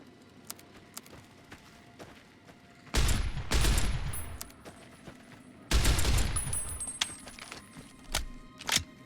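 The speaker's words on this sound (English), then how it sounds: "That is definitely... like M4A1 assault rifle?" Rifle fire in Fallout New Vegas from an M4A1-style assault rifle: two loud bursts of rapid automatic shots, each lasting about a second, with faint clicks and light movement in between.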